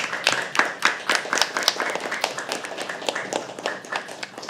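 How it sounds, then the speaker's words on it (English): Audience at a poetry open mic clapping, close individual claps in an uneven, lively rhythm with some voices underneath. "Come on, clap like you mean it."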